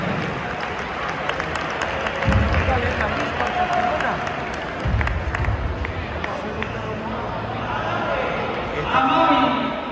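A crowd at an outdoor Txingas race in Izarra, Álava, in the Basque Country, gives scattered applause for a young man. Light clapping sits under steady crowd chatter, and a voice speaks over it throughout.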